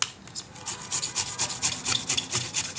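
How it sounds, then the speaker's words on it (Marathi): Peeled beetroot is rubbed against a large grater in quick, rhythmic rasping strokes, about eight scraping passes close up with no talking. "आता ते आपण किसून घेऊया. अशा प्रकारे किसून घ्यायचं."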